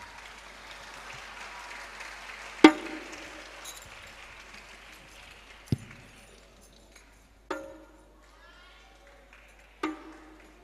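An audience applauds after a hadroh group's performance at a festival inside a large mosque. The clapping is moderate and fades within a few seconds, and a few sharp knocks and clinks ring out afterward in the reverberant hall.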